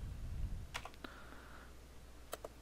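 Faint keystrokes on a computer keyboard entering a value, a handful of soft clicks spaced apart over low background hum.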